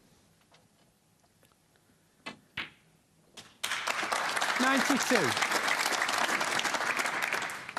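Applause from the crowd breaks out at a 2017 Scottish Open snooker quarter-final between Ronnie O'Sullivan and John Higgins. A few soft knocks come first, then loud, sustained clapping from many hands, with a commentator speaking over it.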